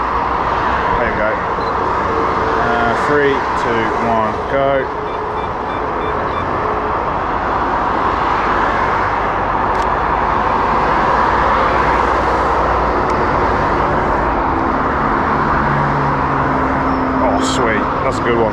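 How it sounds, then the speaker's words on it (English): Cars pass along a city road at night, a continuous wash of traffic rumble with occasional tonal beeps and hisses, while a person counts down and talks over it close by. "Just a few more cars."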